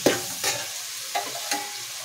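Spices with coriander powder, salt and garam masala frying in oil for ghee rice, a close sizzle punctuated by several distinct scraping stirs at an uneven pace.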